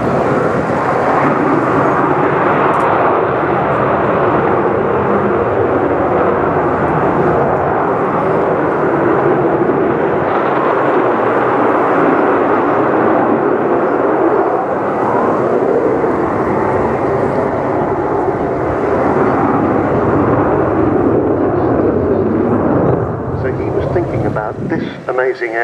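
Avro Vulcan XH558 delta-wing jet bomber in a flying display at RIAT 2012, a loud continuous roaring engine rumble sustained throughout, with a spoken commentary voice running over it.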